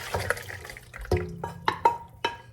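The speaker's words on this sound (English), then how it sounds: "I'm just gonna pour all of this into this pan" Liquid, broccoli cheddar soup, splashes and gurgles as it is poured into a metal pan, with clinks of metal, in uneven bursts, close and moderately loud, with no talking.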